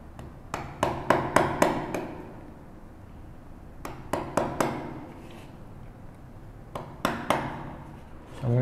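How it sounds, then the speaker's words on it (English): A small chisel chops down through wood while cutting out the middle of a tissue box lid, sharp mallet-driven knocks in quick bursts of several blows separated by short pauses, close and crisp. "Back to that small chisel. Chop from the bottom down,"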